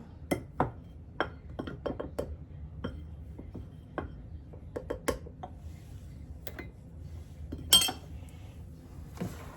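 Root beer pound cake batter being mixed in a bowl with a cup of flour, giving quiet scattered clinks and taps of a utensil against the bowl at an irregular rhythm, with one sharper clink near the end.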